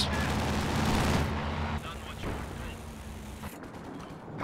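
Rapid machine gun bursts and heavy gunfire in a Company of Heroes 2 match, loud and rattling in the first second, then a continuing battle din with further shots and mechanical clatter.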